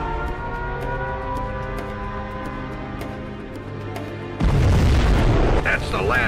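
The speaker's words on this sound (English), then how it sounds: "We have launched our nuclear missile." A nuclear missile strike detonates in C&C Zero Hour, a deep booming blast that bursts in loudly after a stretch of steady game music and rumbles on to the end.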